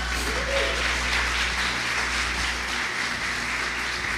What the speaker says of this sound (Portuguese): Pode aplaudir Jesus, gratidão.